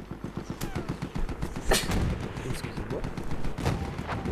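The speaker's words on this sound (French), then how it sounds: "ça tire de tous les côtés, mais je sais pas d'où ça vient" Rapid gunfire from the Battlefield 1 beta on PC, solo campaign: dense bursts of shots and heavy thuds crackle from all sides in a continuous, loud barrage, with a few louder blasts standing out.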